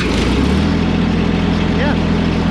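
A John Deere 332 tractor engine idles, a steady low rumble with a constant hum close by, and a voice speaking briefly over it.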